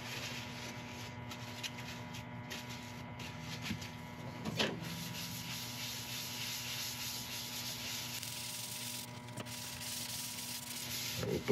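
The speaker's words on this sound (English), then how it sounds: "now I'm going to go on with the True Grit Ultra Fine, and this will hopefully get rid of any micro scratches we've got in the resin" Resin on a woodturning lathe is sanded with True Grit Ultra Fine abrasive, a steady soft rubbing hiss over a constant motor hum, fairly quiet and without speech.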